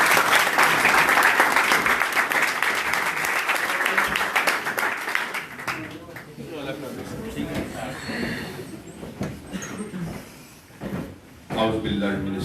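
A school audience claps loudly and densely to welcome the principal at a speech competition. The dense applause is strongest at first, then thins into scattered claps, shuffling and murmuring voices.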